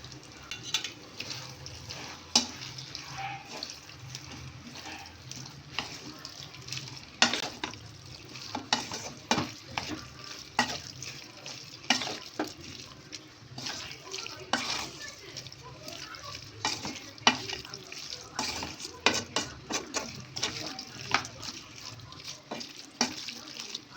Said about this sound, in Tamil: இதையும் கூட சேர்த்து சிக்கனில் நல்லா மிக்ஸ் பண்ணி விட்டுறலாம்